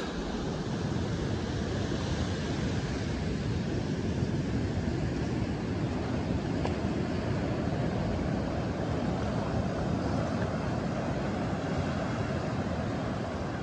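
Surf breaking on a quiet beach in West Wales, a constant broad wash of waves with wind buffeting the microphone, steady and fairly loud with no voices.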